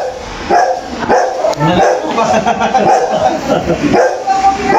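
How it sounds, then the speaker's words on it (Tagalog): Dog barking outdoors on a rural hillside property in the Philippines, a run of repeated loud close barks and yips in an uneven rhythm, with people talking around it. "Yung aso po!"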